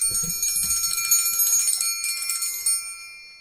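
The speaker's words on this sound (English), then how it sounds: "I'm going to ring the triangle" A metal triangle rung several times, giving a bright, shimmering ring that builds in rapid strikes and then rings out and fades, with no talking.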